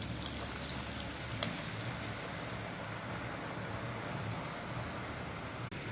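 Ribbon pakoda dough frying in hot oil, a soft, continuous hiss and fine bubbling heard at moderate distance, steady with a couple of faint clicks and no speech.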